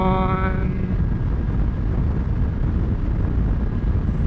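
A lightweight adventure motorcycle, a BMW G 310 GS or Honda CRF300L Rally, runs at full throttle in sixth gear. A steady engine drone is quickly buried under loud, continuous wind roar.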